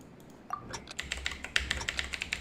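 Rapid clacky typing on a computer keyboard during a Genshin Impact rhythm drum game, a quick run of sharp, close keystrokes in an uneven but steady rhythm with faint background music.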